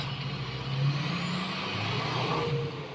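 A motorbike engine revs up and holds a rough, throaty drone, close and fairly loud, rising and easing slightly without any talking.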